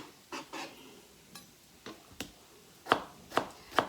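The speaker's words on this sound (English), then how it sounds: "you need a pretty sharp knife for tomatoes" A sharp knife chops a tomato on a cutting board: scattered, close single strikes, slow and irregular at first, then three crisper, louder chops in an even rhythm near the end, with no talking.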